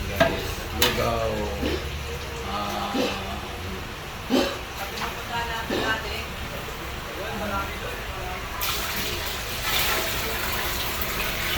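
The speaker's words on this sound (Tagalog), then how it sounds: "nagluluto kami ng lugaw" Rice porridge (lugaw) is stirred in a cooking pot, a ladle scraping and knocking at uneven intervals over a steady bubbling hiss, with voices nearby.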